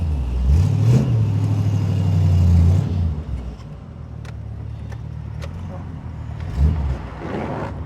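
A cold 1969 Chevrolet Corvette coupe with a 350 V8 pulls away on the road, its engine note rising and falling as it accelerates, then settling into a steadier lower drone with a second surge near the end.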